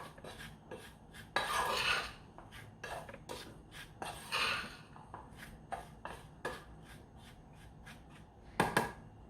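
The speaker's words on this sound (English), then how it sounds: "and give it a good stir." Sugar being stirred through sliced chicken in a pan, a series of metal-on-pan scrapes and clinks in short irregular bursts, fairly quiet and close with no talking.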